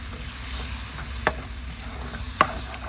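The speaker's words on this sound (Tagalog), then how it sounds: "Haluin lang natin ng konti." A spoon stirs Bicol Express in a pan, giving a quiet steady sizzle with two distinct scraping clicks of the utensil against the pan.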